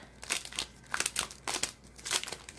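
Crinkly packaging of black foil sheets being pulled open, a run of close, sharp crackling and rustling bursts in quick succession.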